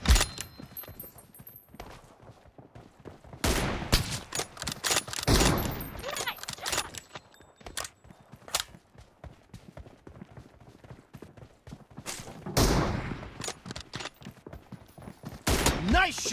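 Rapid bursts of M24 gunfire in a team-based shooter video game, loud clustered volleys near the start, middle and end with quieter gaps between, with game voice callouts mixed in.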